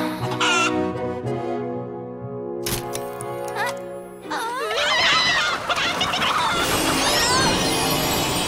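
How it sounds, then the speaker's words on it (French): Loud hen squawks and gobbling calls in an animated series, sustained at first, then a busy, overlapping flurry of excited clucks and cries. "Si ces poules cherchent la bagarre, elles vont trouver à qui"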